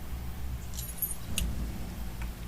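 Car keys jangle in a video game, a bright metallic rattle in two or three short bursts over a steady low background hum.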